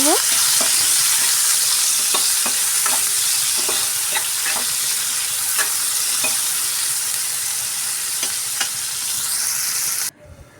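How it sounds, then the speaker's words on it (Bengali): Chopped onions sizzle steadily in hot oil in a pan for a Bangladeshi-style potato, eggplant and shrimp curry, with a spatula scraping and stirring at regular intervals; close and continuous, no talking. "দুটো মাঝারি সাইজের পেঁয়াজ কুচি তো পেঁয়াজটাকে দিয়ে আমি একটু লাল লাল করে ভেজে"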